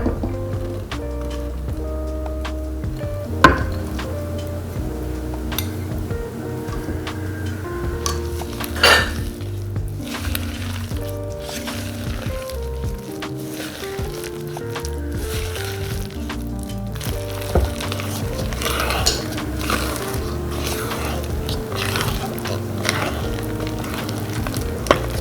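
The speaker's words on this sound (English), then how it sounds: "You're going to want to fold these carrots into the cake." Grated carrots are folded into carrot cake batter, with continuous scraping, clinking and knocking of a utensil against a bowl, irregular and close, while music plays underneath.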